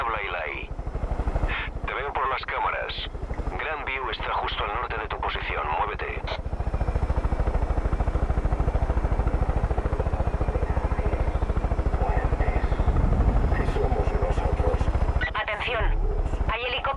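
A helicopter in the video game Far Cry 5 gives off a steady, loud rotor drone that builds through the middle and stays under intermittent talk near the start and end.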